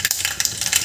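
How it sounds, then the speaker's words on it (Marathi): Mustard seeds crackle and sizzle in hot oil in a pressure cooker, a close, bright spattering with quick irregular pops throughout. "इथे मी मोहरी टाकत आहे"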